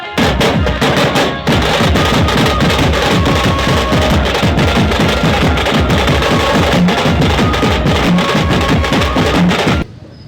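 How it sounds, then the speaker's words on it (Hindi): Loud, continuous fireworks at a political welcome rally with a long vehicle convoy: dense rapid crackling and popping bursts without pause for about ten seconds, then they stop abruptly. "इस दौरान जोरदार आतिशबाजी की गई।"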